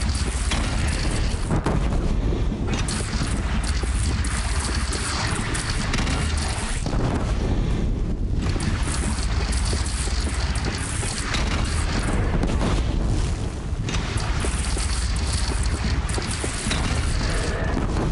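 A bridge shot down in Horizon Zero Dawn on PS4 comes apart in a long, loud roar of explosion and collapse, with continuous booming rumble and crashing debris throughout.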